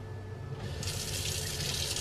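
Tap water runs into a large kitchen sink in a DIY Sprinter camper van, opening partway through as a close, steady splashing gush that continues to the end at moderate volume.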